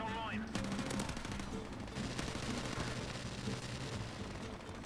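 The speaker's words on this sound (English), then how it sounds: "Ah, shotguns, man." Rapid bursts of gunfire from shotguns and other weapons in Call of Duty 4 on the Shipment map ring out continuously and loudly, dense overlapping shots filling the whole stretch.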